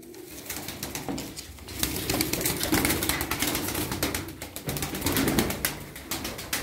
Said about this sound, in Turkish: Kuşlarımız güzel.